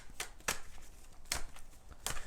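Tarot cards are shuffled in four quick, crisp bursts spaced irregularly apart, close and fairly clear against a quiet room.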